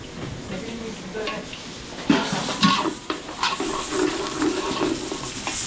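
Garlic and onion fry in a pan at a catering service, a continuous sizzle with scraping stirring strokes and a few louder clatters, while people talk nearby.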